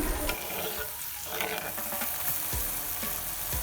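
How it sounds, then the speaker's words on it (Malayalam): Tamarind water and ginger mixture stirred and boiling in a pan, a close continuous sizzle and bubble with repeated scraping strokes of a spoon, with no talk. "ഈ പുളിവെള്ളം ഇതിലേക്ക് നല്ലപോലെ മിക്സ് ചെയ്ത് നമുക്ക് നല്ലപോലെ ഒന്ന് തിളപ്പിച്ചെടുക്കണം"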